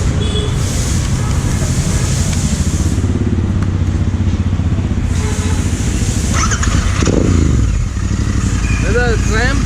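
A Benelli Imperiale 400 motorcycle engine starts and runs at idle, a steady low rumble close by with a brief rise in revs near the end, while people talk over it.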